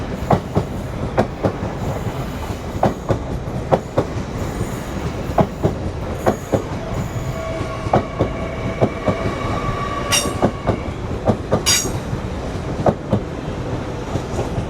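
A Class 800 train runs through Doncaster station on the East Coast Main Line, a steady rumble with regular wheel clacks over rail joints and brief high squeals, close and sustained, with no voices.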